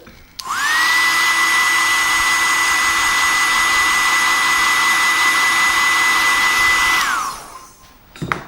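A hair dryer drying paint on a painting project, switching on, whirring loud and steady for about seven seconds, then shutting off with a falling pitch.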